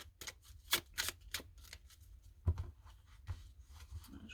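Lenormand cards being shuffled by hand, soft papery flicks and riffles coming in uneven quick bursts, close and fairly quiet, with no voices.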